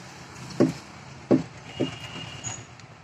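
A Maruti WagonR car gives off clicking knocks, three distinct hollow taps about half a second to a second apart, followed by a softer fourth, over a quiet background hum.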